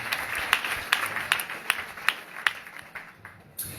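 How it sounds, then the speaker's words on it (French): Scattered applause from a church congregation at a morning service, a few sharp distinct claps standing out over a soft, thin background of clapping, fairly faint. "Est-ce que bon Dieu pas mérité un applaudissement encore ce matin?"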